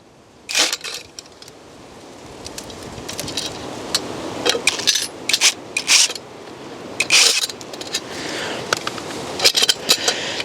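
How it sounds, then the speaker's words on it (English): A driver sinks Torx screws with washers into a 2x4 wood block, giving close bursts of whirring and creaking spread across the clip, alone with no talk. "I'm going to hopefully screw a couple of Torx screws with washers into this to basically get it mounted."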